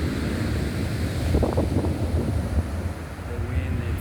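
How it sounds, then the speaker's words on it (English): Strong wind buffeting the microphone at Potali Bay beach, with a broad rushing roar of high rough sea waves underneath, constant and loud, and faint voices briefly audible in the middle. "The wind is 30 kilometers and the wave is very high."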